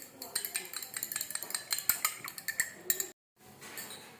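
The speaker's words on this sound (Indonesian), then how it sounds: "Kemudian kita tambahkan 4 ml cuka. Ya. Kemudian kita aduk juga." Stirring of a vinegar solution in a container: about 4 ml of vinegar mixed into 100 ml of water, making quick, repeated clinks and scrapes for about three seconds, then a brief silence and a quieter tail.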